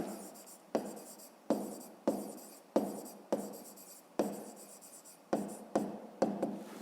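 Pen scratching a math solution onto paper in a quiet room, a run of short strokes each starting sharply then fading, close and alone.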